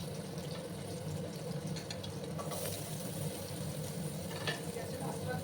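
Potatoes frying in oil in a pan after bitter gourd has been removed, a steady broadband sizzle running continuously throughout at an even, fairly loud level.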